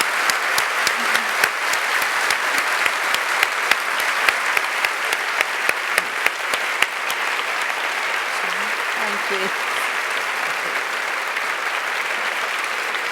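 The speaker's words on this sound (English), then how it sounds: "Another round of applause." An audience applauds after a Vandana Shiva talk on growth and poverty at a festival of ideas, with steady dense clapping throughout that thins slightly toward the end.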